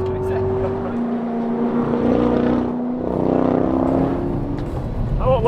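A 755 hp Corvette ZR1 accelerates hard with a steady, loud engine roar and rising pitch throughout, heard from inside the car with people talking over it.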